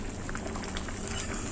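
Lentils (mati dal) bubble in a pot at a rolling boil, a close, steady burble with soft popping bursts and no voices.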